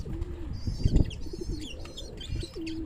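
Pigeons coo in low, throaty bursts near the listener, with chirps and brief wing flaps among the flock of pilka pigeons.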